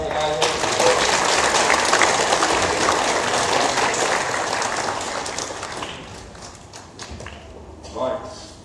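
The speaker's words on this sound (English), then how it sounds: "Round of applause for David." A church congregation applauds during a Sunday morning worship service, a broad wash of clapping that holds strong for several seconds before tapering off into scattered claps and quiet room noise.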